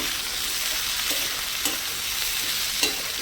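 Mixed vegetables frying in a pan while being stirred, a continuous close sizzle with occasional scraping knocks of the spoon, and no talking.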